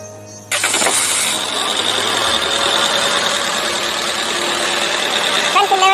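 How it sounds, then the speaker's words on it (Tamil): A Tata Zest car engine cranks and catches after an EGR cleaning job, then settles into a steady loud idle heard up close, with a brief burst of noise near the end. "நான் வண்டி நான் ஸ்டார்ட் பண்ணுறேன்."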